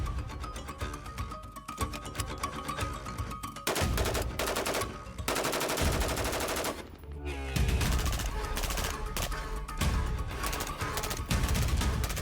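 Rifle gunfire in a video game, with bursts of rapid shots and loud crackling volleys mixed with game music and effects, changing abruptly between segments.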